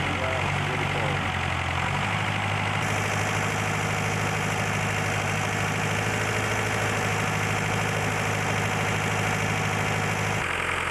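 A diesel engine drives a water pump for washing gravel, droning steadily and loudly close by with a low, heavy, continuous hum for the whole stretch.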